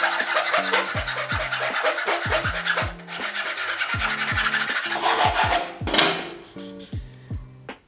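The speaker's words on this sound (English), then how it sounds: "fit it into the groove, and give it a tug, it should start cutting nicely straight away" A hand saw cuts through wood in steady back-and-forth rasping strokes, close and loud, slowing to a few final strokes as the cut finishes.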